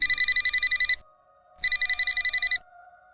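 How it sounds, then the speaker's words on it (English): A work phone rings in two bursts of rapid electronic trilling separated by a short pause, clear and fairly close in a quiet, dusty abandoned interior. "Then my work phone rang."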